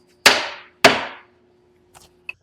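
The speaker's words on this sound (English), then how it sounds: "I'm going to give that a little whack with the hammer." Two sharp hammer whacks on a stick braced against the cut strip of a Dash-Board portable workbench, each a loud ringing clang half a second apart, followed by a couple of faint small clicks.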